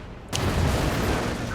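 A Panther tank fires a shot in the war game Company of Heroes 2, one sudden loud boom followed by a sustained rumbling roar of battle.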